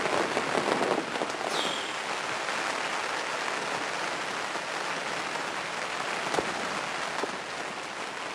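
Heavy rain drumming on a fishing bivvy beside a lake, a dense, steady hiss and patter that carries on without a break, loud and close, with no voices.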